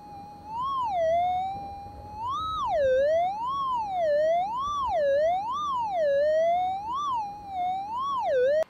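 Metal detector tone over a gold target, heard through headphones in a gravel gold field: a loud, wavering electronic tone that rises and falls repeatedly in a siren-like warble, with no talk.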